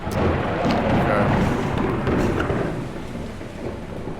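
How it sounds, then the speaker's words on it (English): Thunder rumbles and crashes in the video game Gone Home, a deep, loud, rolling roar that fills the first seconds and slowly fades, with no talking over it. "Just getting like random bits of thunder crashing down all the time."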